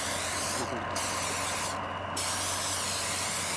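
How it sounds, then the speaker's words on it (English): Two quick hissing bursts of aerosol cooking spray, about a second apart, over a steady background hum. "So spray both sides with spray."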